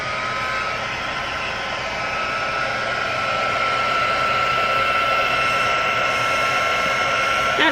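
A heat tool blows hot air onto vinyl, a steady, even whooshing hum with a high whine that holds for several seconds without any speech.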